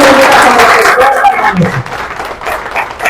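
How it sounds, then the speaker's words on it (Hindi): A large crowd at a public gathering in Beed breaks into loud, dense applause that holds strong and then thins slightly, with faint voices mixed in. "जोरदार तालियों से"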